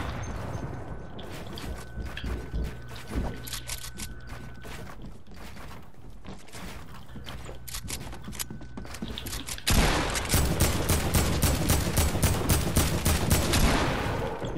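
Video game gunfire in a shooter match: rapid bursts of automatic fire and single cracks, ending in a sustained loud fusillade of close shots, with no talk.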